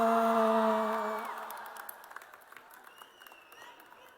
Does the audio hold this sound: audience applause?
yes